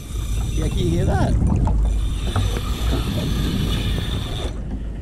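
A fishing reel's drag ratchets in a rapid buzzing stream as a bluefin tuna strips line on a boat at sea, over engine and wind noise with people talking.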